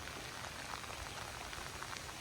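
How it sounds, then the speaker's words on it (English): Steady rain falls in the English countryside near an old house by a river, a dense, even patter of drops on surfaces that continues without pause at a moderate, distant level. "it's raining pretty good right now"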